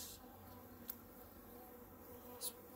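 Honey bees buzzing on a brood frame during a hive inspection for a walkaway split: a faint, steady droning hum that carries on throughout, with a couple of brief closer buzzes.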